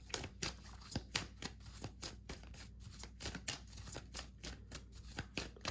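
A deck of tarot cards is shuffled by hand, a close, soft series of rhythmic riffling slaps and brushes repeating every half second or so, with no talking.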